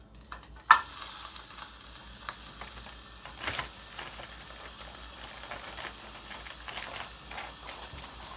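A burger patty frying in a buttered pan for an Elvis Presley bacon cheeseburger gives a faint, steady sizzle with a sharp clack near the start and scattered light pops throughout. No one speaks.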